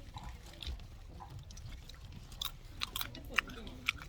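Someone chewing Korean galbi up close, soft wet mastication with a few sharper clicks and smacks, low murmuring and background noise underneath.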